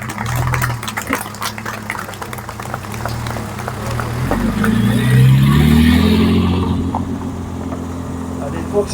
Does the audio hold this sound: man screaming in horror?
no